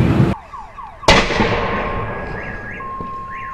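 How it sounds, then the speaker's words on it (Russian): A car tire bursts in a burning car fire at night, a sharp loud bang, with an earlier abrupt blast and wailing car alarms echoing between buildings afterward. "И сейчас начинает взрываться колеса."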